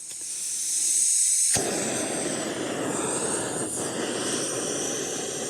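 Helicopter flying over wooded mountains at a backcountry campsite, a steady loud rotor and engine roar that rises abruptly and holds continuously with a hissing wash, no talk over it.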